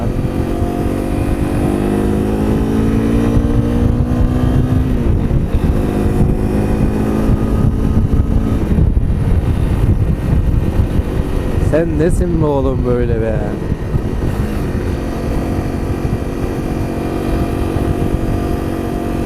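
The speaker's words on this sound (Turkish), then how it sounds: "Ama Honda'nın ayrı bir sesi var abi ya" A Honda CRF 250 L motorcycle engine droning steadily throughout a ride, loud and continuous with wind rush, its pitch shifting as the throttle changes, while someone talks over it.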